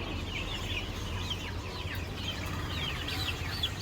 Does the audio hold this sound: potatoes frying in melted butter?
no